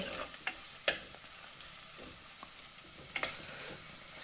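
Curry leaves crackle and sizzle in hot oil while being stirred for a Sri Lankan prawn curry, with soft steady frying and a few sharp pops of spattering close by.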